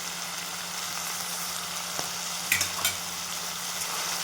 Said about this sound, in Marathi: त्यामध्ये आता आपल्याला टमाटर घालून घेऊ, कोथिंबीर आणि टमाटर, हे पण छान परतून घेऊ